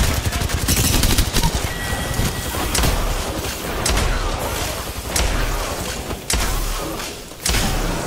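Gunfire in an Apex Legends match, a dense run of rapid shots and sharp thuds, loud and close, with brief gaps between volleys.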